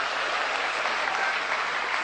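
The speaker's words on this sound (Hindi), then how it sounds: "एक बार जोरदार तालियां" Loud, dense applause from a crowd at a speech, a continuous, even roar of clapping with no pauses.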